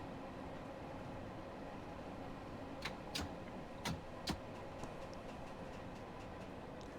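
A London Overground train running in Train Sim World 2, a low steady rumble of wheels and motor at cruising speed, faint and even, with a few sharp clicks of rail joints.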